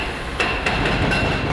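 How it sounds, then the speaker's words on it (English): Demolition hammers pounding at a Toronto construction site, a steady dense rattle of distant hammering under heavy site noise, with a few sharper clanks standing out. "You can hear the hammers working in the background."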